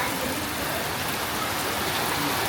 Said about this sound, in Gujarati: આવો નવો વરસાદ અત્યારે ચાલે છે